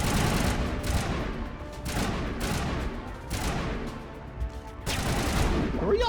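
Gunfire in the Mass Effect video game, heavy repeated bursts of shots in several loud volleys separated by brief lulls, with a little talk mixed in.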